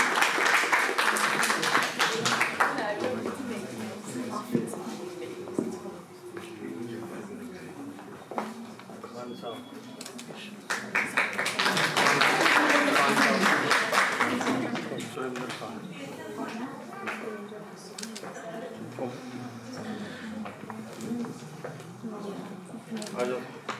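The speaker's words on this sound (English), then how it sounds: "Can we have a round of applause, please?" Bursts of audience clapping at a concert swell and fade twice amid ongoing talk from a speaker, with quieter scattered claps between them.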